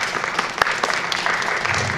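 Audience applause after student research presentations at a school science event, dense steady clapping from a room of people, close and even throughout.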